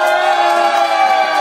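An improv show audience gives loud, sustained cheering and whooping, a dense roar of many voices heard up close.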